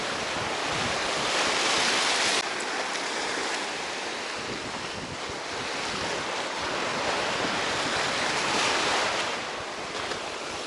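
Black Sea waves surge and break continuously close by in the evening, a loud broad roar with wind rushing over the microphone and no voices.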